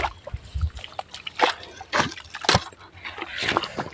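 Freshly caught fish are poured out with water, making uneven trickling, sloshing and splashing bursts close by. The noisy spurts come in irregular waves, with faint background voices under the water.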